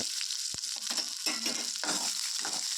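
Small onions sauté in hot oil with fried fenugreek seeds, giving a steady close sizzle broken by irregular scraping stirs throughout.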